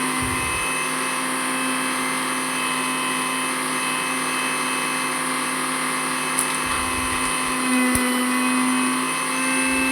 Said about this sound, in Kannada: ಇದು ಸ್ವಲ್ಪ ತಣ್ಣಗಾದಮೇಲೆ ಮಿಕ್ಸಿಗೆ ಹಾಕೋಬೇಕು